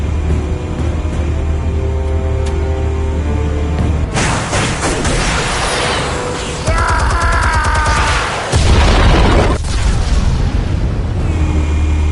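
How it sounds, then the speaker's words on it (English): Explosives detonate in Batman: The Telltale Series, heavy booms and rolling blasts erupting in bursts over a low rumble, with crackling debris and a long sustained roar, loud and close. "Explosives armed. Fire when ready."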